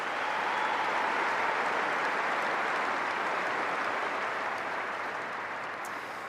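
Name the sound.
audience applause at tennis tournament ceremony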